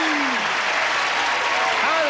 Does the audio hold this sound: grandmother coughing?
no